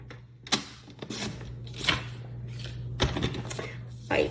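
A paper trimmer slices through patterned cardstock with a few short, sharp strokes and clicks over a low steady hum, close by, with no talking.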